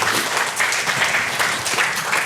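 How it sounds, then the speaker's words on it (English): Audience applause at a Kangen water machine sales training, a dense burst of many hands clapping that holds steady for a couple of seconds. "Please give us some applause."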